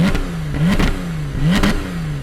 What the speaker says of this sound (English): let's give it a couple revs here so folks can hear it